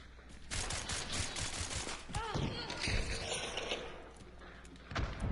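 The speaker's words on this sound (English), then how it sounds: "Oh, shotgun." Shotgun blasts in the video game Hunt: Showdown, several sharp loud bangs spread through a tense firefight, with a voice talking over parts of it.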